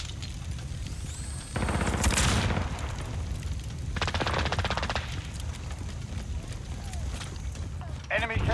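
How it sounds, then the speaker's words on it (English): Call of Duty Modern Warfare Domination match on the Crash map, where a grenade explosion booms amid constant gunfire and battle noise, with in-game radio voices over the action. "Grenade out!"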